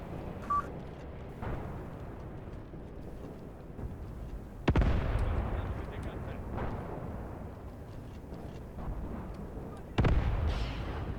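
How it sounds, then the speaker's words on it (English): An enemy artillery gun fires in the background of a Graviteam Tactics Mius Front battle. Two heavy, fairly distant booms rise out of a low battlefield rumble, several seconds apart. "the enemy gun somewhere in the background is shooting"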